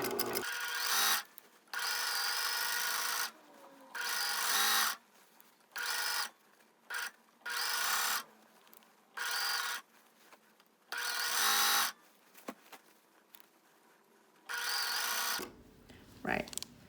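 A sewing machine stitches a half-inch seam on a Torrens box top, running in repeated bursts of steady whirring separated by short pauses, close and clear, with a person speaking now and then between runs.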